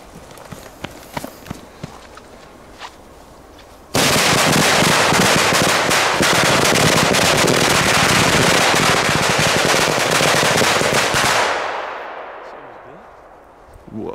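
A finale cake of fireworks and firecrackers goes off in Belgium: a dense, loud barrage of rapid crackling bangs roars continuously for about seven seconds, then trails off, with scattered quieter pops before it.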